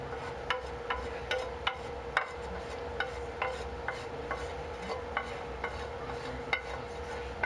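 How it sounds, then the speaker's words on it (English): A container is scraped out with a utensil while a family meal is cooked, giving repeated short scraping strokes in an irregular rhythm over a steady kitchen hum. "Want to make sure everything is scraped out."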